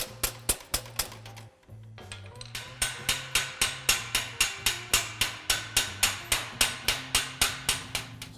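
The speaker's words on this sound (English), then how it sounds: "I hammered it flat with a hammer and dolly to make sure that I don't have any high and low spots" A hammer and dolly flatten tacked-in sheet metal on the cowl panel of a 1961 Ford Thunderbird, a rapid, evenly paced series of sharp ringing metallic blows, close and loud, with one brief pause before the steady strikes continue.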